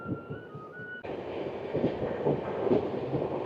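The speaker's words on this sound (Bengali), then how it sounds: "গুসকরা স্টেশনের 2 নম্বর প্ল্যাটফর্ম থেকে ট্রেনটি ছেড়ে যাচ্ছে" The 12337 Shantiniketan Express pulls out of platform 2 at Guskara station. A steady rolling rumble and clatter rise after a brief tonal hum, moderately loud and close.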